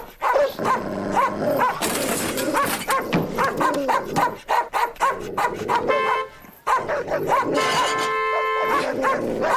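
Abandoned dogs bark close by in repeated quick bursts, mixed with yips and a few growls, with short pauses between volleys and faint voices underneath.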